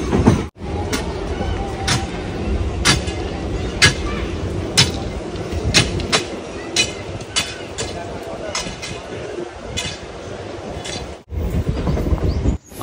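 An opposing Vijayawada–Lingampalli train passes a MEMU Express near Krishna Canal Junction, a low continuous rumble with a rhythmic series of sharp wheel clacks over rail joints, loud and close, with a sudden rush of air at the end.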